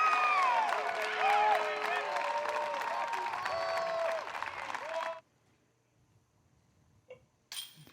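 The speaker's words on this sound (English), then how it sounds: "You're going to hear some applause on this one." Crowd applauding and cheering at a disc golf tournament as spectators react to a putt, loud and sustained for about five seconds under commentary and music-like tones, then cutting to near silence with a few faint distant sounds.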